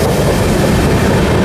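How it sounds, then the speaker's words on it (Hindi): Amrit Bharat Express train running through on the main line at Durg at good speed, a steady loud broadband rumble of wheels and rail noise filling the whole moment without pause. "अच्छी खासी रफ्तार में मेन लाइन अराइवल हो रहा है दुर्ग में"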